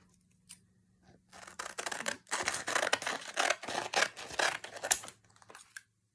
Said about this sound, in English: cut scissors with sandpaper in order to sharpen them